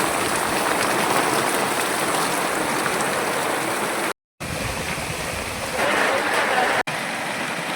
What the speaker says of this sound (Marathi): दडगाव तालुक्यात मुसळधार पावसाची हजेरी